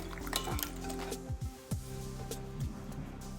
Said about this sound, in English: I'm just going to add the flounder pieces into the pan